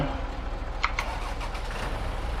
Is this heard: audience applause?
no